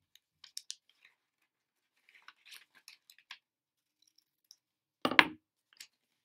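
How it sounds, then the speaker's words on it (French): Child-friendly scissors cut out a paper fish, giving sparse, quiet snips in short clusters, then one louder crunching cut near the end, with no one speaking over them. "Et je vais découper le poisson. Je découpe le poisson."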